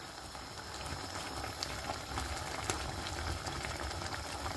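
Tomatoes boiling in a pan on a gas stove while butter paneer masala is being made, a steady, dense bubbling hiss that holds at an even level throughout.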